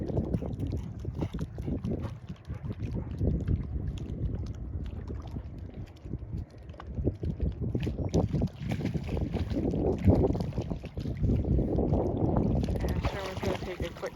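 An approaching boat's motor drones steadily with wind buffeting the microphone and water sloshing, growing slightly louder toward the end; faint voices are mixed in.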